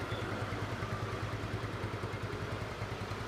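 A ten-year-old Yamaha Mio scooter engine idles steadily nearby after a cleaning. Its exhaust gives a low, even, continuous putter throughout with no breaks.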